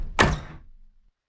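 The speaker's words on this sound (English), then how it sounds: "he forced the door shut" A door kicked shut with a heel, its hinges long unoiled: one loud, close thunk with a short rumbling decay that fades within about a second.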